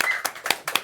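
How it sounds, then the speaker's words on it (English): A few sharp claps during a launch day celebration livestream, four distinct hand claps spaced roughly a quarter second apart, close and fairly loud, with a faint voice briefly underneath. "That's a round of applause."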